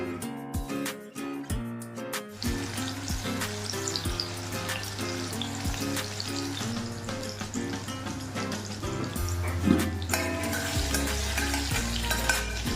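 Whole cumin, chopped garlic and green chilli fry in mustard oil in a pan, a steady close sizzle running throughout with brief stirring clatters, while background music plays underneath.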